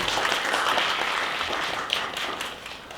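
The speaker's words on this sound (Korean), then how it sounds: "다시 한번 박수 부탁드리겠습니다." Audience applause at a talk event, steady dense clapping from a crowd that holds for three seconds and tapers slightly toward the end, with no voices over it.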